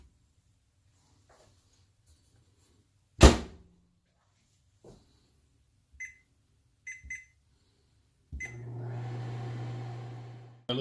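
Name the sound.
microwave oven heating peanut butter fudge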